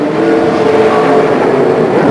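Speedcar Series race cars during a 2008 UAE race overtaking battle, with loud, close engine roar as they accelerate, continuous and strong.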